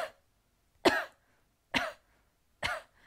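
Three short, sharp coughs with pauses of roughly a second between them, close and clear in an otherwise quiet room, with no talking.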